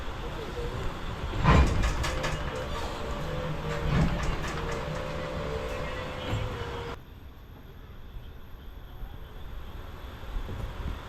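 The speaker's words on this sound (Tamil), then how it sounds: "இப்போது நீங்கள் பார்க்குறது இந்த ராசிபுரம் ரயில்வே ஸ்டேஷன்." Train at Rasipuram railway station at night, with a steady low rumble and a couple of clanking bumps, fairly faint and distant, dropping quieter toward the end.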